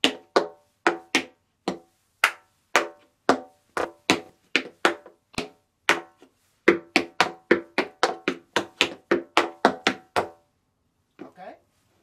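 Tap dance shoes strike a hard floor in a rhythmic break from a Fred Astaire tribute class, a crisp sequence of about two dozen sharp, close taps in quick clusters, ending in a few soft scuffs.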